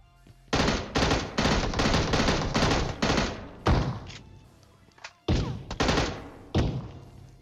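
AKM and M16 rifle fire in PUBG Mobile: loud, close bursts of automatic shots, broken by short pauses, with a final few separate volleys near the end.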